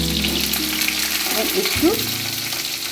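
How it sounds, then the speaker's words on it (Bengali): Pointed gourd (potol) frying in oil that was salted first: a dense, loud sizzle and crackle with a brief stir partway through, while someone speaks a word over it. "পটলটা আমি ভেজে নেব"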